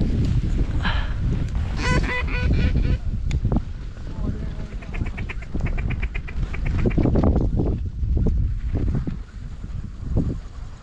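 Many ducks quack in a busy, overlapping chorus, loud and close, during a hunt in Saskatchewan, Canada, with wind buffeting and people speaking intermittently over the flock.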